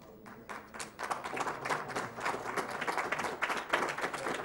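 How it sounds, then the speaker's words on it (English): Room audience at a live speedrun marathon gives soft, distant applause, a continuous crackle of many hands that swells slightly toward the end, with no talk. "Give a big applause to the man himself, UA."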